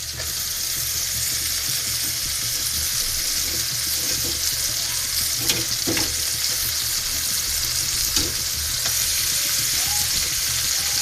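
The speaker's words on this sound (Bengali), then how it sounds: "এবার আমি কচু শাকটা দিয়ে ভাজবো।" Taro leaves sizzle and crackle steadily in hot oil, with a few scraping stirs of a utensil against the pan.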